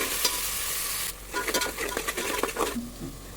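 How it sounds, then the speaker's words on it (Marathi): Chopped onion fries in a pan for pav bhaji, browning over steady sizzle. A steady hiss gives way to busier stirring scrapes and crackles, fairly close, with no talk. "तर मी अगोदर कांदा भाजून घेते"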